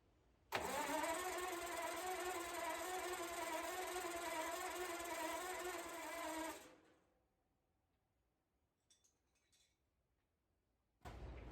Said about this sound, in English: So I'm gonna turn the battery switch on, and we're gonna crank on it and see what happens.